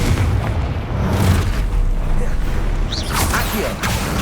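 A Confringo spell blast in Hogwarts Legacy sets off a loud, booming fiery burst with rumbling low energy and a crackling tail, followed by further magical whooshes.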